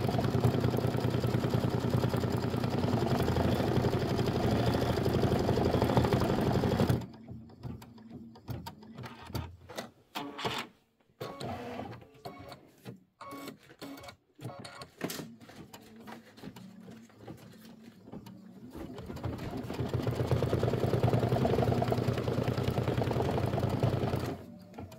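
An embroidery machine stitches an applique placement line for a nativity bench pillow block. It starts with a loud steady mechanical whir, breaks into a stretch of choppy start-stop needle clatter, then returns to a continuous hum, all close by with no talking.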